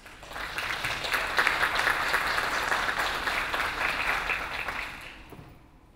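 Sustained audience applause at a spiritual diversity conference greets the convener, swelling quickly, holding steady for several seconds, then tapering off at the end.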